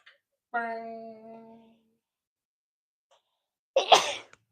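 A single sharp sneeze, loud and close, comes after a sustained voiced sound and a stretch of near silence.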